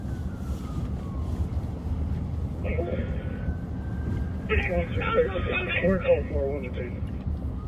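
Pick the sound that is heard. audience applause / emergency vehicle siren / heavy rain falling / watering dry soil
emergency vehicle siren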